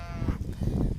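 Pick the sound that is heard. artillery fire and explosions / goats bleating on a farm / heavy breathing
goats bleating on a farm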